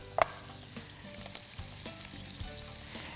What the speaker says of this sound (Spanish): Voy a poner en el wok mantequilla y voy a poner también aceite de oliva.